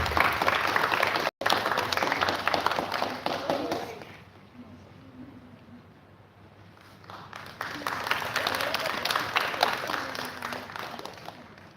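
A crowd applauds at the final-day ceremony of a residential astronomy and space camp, dense clapping that dips to a quieter murmur midway and then swells again, fairly close and steady.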